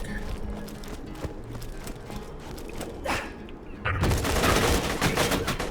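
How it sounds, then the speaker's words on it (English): Bursts of gunfire from a five-round-burst rifle with a 27-round magazine in the Borderlands 2 shooter game, with loud cracks rising out of steady background game noise and a heavier burst near the end. "Five-round bursts, 27-round mag."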